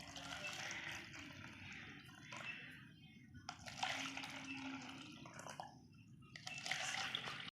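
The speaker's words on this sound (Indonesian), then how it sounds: "yang pertama kita tuangkan air mineral ke dalam 4 buah wadah" Mineral water poured into four containers one after another, giving separate bursts of splashing liquid with short pauses between them, faint and close by.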